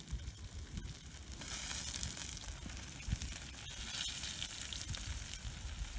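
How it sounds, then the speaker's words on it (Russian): Smelt fish fry in a cast-iron pan over an outdoor campfire in the cold, giving a constant dense sizzle and crackle with occasional sharper pops, at a moderate, even level. "Вот начинаем жарить корюшку."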